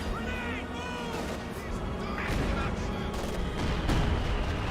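An anti-tank gun fires amid a dense Company of Heroes 2 battle, with repeated sharp blasts and gunfire over rumbling combat noise while a voice talks over it.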